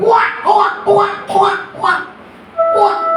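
A voice imitates a duck's quack in a Tamil villupattu storytelling performance, giving a run of five or six nasal, rhythmic quacking bursts at close range, with a steady tone entering near the end.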